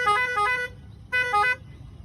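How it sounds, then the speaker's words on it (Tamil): A musical cut-out horn on a Maruti Omni van plays two short melodic bursts, loud and close, with a brief pause between them. "இந்த வண்டிக்கு பார்த்தீங்கன்னா மியூசிக் கட் அவுட் ஹாரன் வச்சுருக்குது"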